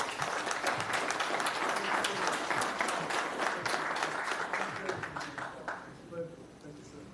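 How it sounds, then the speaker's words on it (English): A dense round of applause from an audience at a school district board meeting, sustained and full for several seconds before thinning out and fading near the end. "Let's give them all a round of applause."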